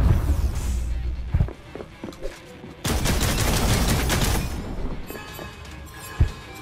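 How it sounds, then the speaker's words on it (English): Video-game gunfire aimed at a spiked platform in Lair of the Clockwork God: bursts of rapid shots, a quieter gap in the middle, then a long dense volley and a few more sharp impacts near the end. "I cannot believe shooting the platform with the spikes in frustration actually worked."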